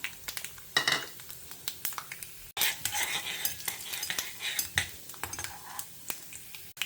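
Mustard seeds and urad dal frying in hot coconut oil in a home kitchen pan: steady close sizzling with frequent spoon scrapes and clinks against the pan, and no talk.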